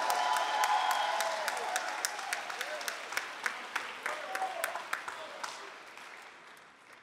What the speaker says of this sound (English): Somebody clap like you're a Christian.